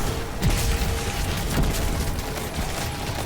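Explosions and gunfire from a Destiny 2 firefight on Nessus, a dense, steady barrage of bursts and booms at close range with no voices.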